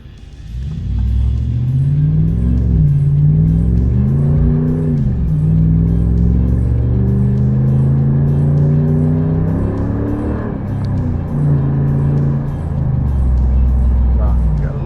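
A 2014 Ram 1500 pickup with a 5.7L HEMI V8, resonator delete and tubular muffler, accelerates hard from a stop, a loud, deep exhaust roar climbing through several gear shifts, with someone talking over it.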